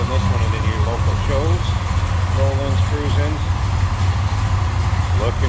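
A 1966 Chevrolet Biscayne two-door sedan's V8 with headers and a four-barrel carb idles with a deep, steady, rumbling pulse, continuous and close, while someone talks over it.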